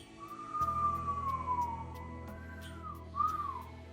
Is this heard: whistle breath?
yes